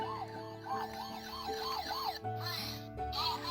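A small electronic toy siren wails in a quick, repeating police-style warble, fairly quiet and close, with a couple of faint clicks.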